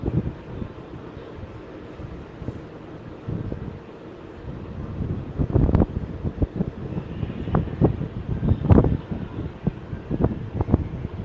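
Strong wind buffets the microphone outdoors at Walt Disney World near the monorail and Contemporary resort, a steady rushing roar with louder gusts building toward the end, no talking.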